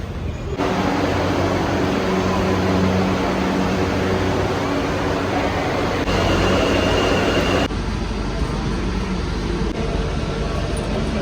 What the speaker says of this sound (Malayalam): അപ്പം ഇനി എന്തായാലും പോയി മെട്രോ കയറട്ടെ